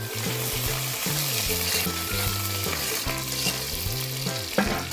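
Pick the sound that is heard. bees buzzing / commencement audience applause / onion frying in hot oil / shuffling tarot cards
onion frying in hot oil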